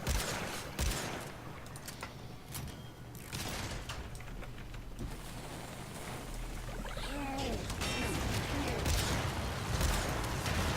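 Rapid gunfire bursts crackle through a firefight in the video game Warframe, with dense overlapping shots and clatter in the first half giving way to scattered effects and noise.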